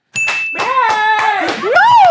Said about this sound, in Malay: Korang kena replay balik sebab aku tekan loceng dulu